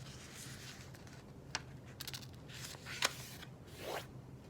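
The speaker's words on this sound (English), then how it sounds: "The first fold you will make is in half lengthwise." Sheets of paper being folded in half lengthwise for a zine give soft rustles and a few sharp creasing swipes, close by and fairly faint, with no talking.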